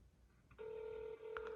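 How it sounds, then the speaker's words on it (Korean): An Apple Watch Series 5 phone app places a call to 114, producing a steady electronic calling tone from the watch speaker, quiet and alone after a brief lead-in. "이 전화 어플을 키시고 예를 들면 뭐 114에 제가 전화해보면"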